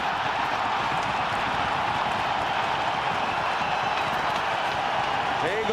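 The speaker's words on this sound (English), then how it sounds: "The crowd is going wild." A hockey crowd roars loudly and continuously at an arena, a dense, sustained wall of cheering with no clear breaks, heard alone without talk over it.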